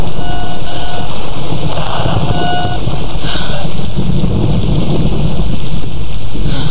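Rain falls in the Tomb Raider video game as a dense, steady hiss with faint tonal game sounds layered over it, loud and continuous throughout.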